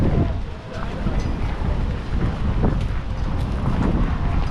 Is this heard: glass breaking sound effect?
no